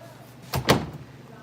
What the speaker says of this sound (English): let me lock my door.